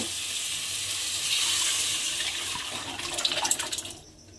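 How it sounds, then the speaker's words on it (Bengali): Boiled lentils (dal) are poured into hot oil and frying spices, giving a loud, close hiss and sizzle with splashing liquid that swells, bubbles and then fades near the end. "সেই ডালটা আমি এর মধ্যে ঢেলে দেব"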